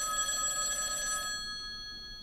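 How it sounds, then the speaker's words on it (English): A bright, shrill telephone bell rings loudly and steadily, then cuts off and fades into a quiet room during a stage performance of The Drowsy Chaperone. "I don't want this number ruined by a ringing telephone"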